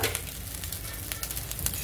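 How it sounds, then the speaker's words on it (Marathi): Garlic rice sizzles as it is stirred in a kadai, a close, steady frying crackle broken by soft scrapes and taps of the spoon against the pan, with no talking. "कढईमध्ये हलवून घ्यायचा आहे"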